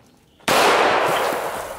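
A single .45 caliber pistol shot fired into solar panels cracks out sharply after a brief quiet moment, then its loud, bright blast decays with a lingering rattle.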